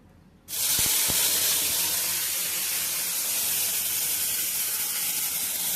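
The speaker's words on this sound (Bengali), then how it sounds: "এবার আমরা মিক্সিতে বেটে রাখা এই পেস্টগুলো এই গরম তেলটার মধ্যে দিয়ে দেব" Blended spice paste hits hot oil for a Bengali potato-and-egg curry, a sudden loud, steady sizzling hiss that starts after a brief quiet moment and holds strongly to the end.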